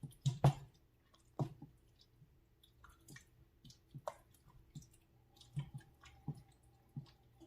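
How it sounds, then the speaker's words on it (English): Goulash gets stirred in a pot with soft wet squishes and scrapes, a scattered run of quiet, uneven strokes with gentle clicks in between. "go ahead and give that a stir."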